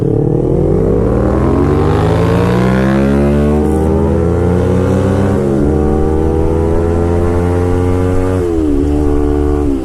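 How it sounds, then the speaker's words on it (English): A Kawasaki Ninja 250R motorcycle accelerates hard, its loud, close engine whine climbing steadily in pitch, with brief dips at gear changes before it rises again, alone throughout. "I'll show you guys how much faster Caleb's bike is than my bike."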